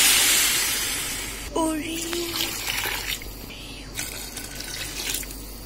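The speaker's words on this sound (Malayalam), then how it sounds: "അതിലേക്ക് വെള്ളം ഒഴിക്കണം." Water poured into a pot of rice, a hissing gush at first that turns into a splashing, bubbling stream, near and fairly loud, with no talking.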